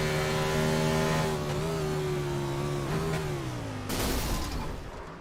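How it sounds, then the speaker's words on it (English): Race car engine failing onboard the number 63 machine at Mid-Ohio Sports Car Course, a loud revving drone that sags in pitch, falters and breaks into a rough burst near the end. "you hear the engine just let go in that 63 machine"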